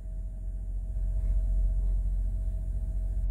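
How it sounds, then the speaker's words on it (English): A semi truck's diesel engine turns over and settles into a steady, close low rumble that grows stronger after the first second, with no voices. "I'm going to fire up the truck. It's going to sound like a fax machine."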